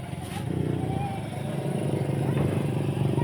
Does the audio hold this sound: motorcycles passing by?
yes